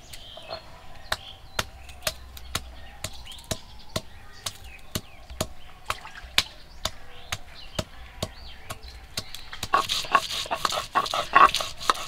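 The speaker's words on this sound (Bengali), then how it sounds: "ভাই তো ওইদিকে মাংস কাটতেছে" Duck meat being chopped in a village kitchen, a steady run of sharp cleaver strikes roughly twice a second, close and distinct, growing busier near the end.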